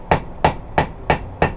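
A rounding hammer's flat face strikes metal while a herb chopper blade is forged: five sharp, evenly spaced blows ring out close and loud with no talking.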